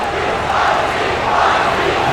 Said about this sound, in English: You can hear the crowd getting behind their team